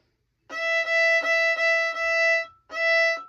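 A violin bow plays a rhythmic pattern on an open string: bright sustained bowed notes of one pitch in short repeated strokes, a brief gap, then one more stroke. Clear and close, no talking.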